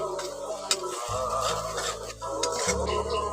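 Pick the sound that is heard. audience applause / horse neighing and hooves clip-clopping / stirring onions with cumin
stirring onions with cumin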